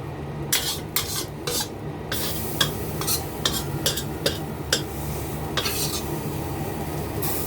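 A utensil scrapes and clinks in quick, repeated strokes as stir-fried water spinach with pork rinds is scooped from a pan onto a plate, over a faint sizzle. The sound is close, with no speech.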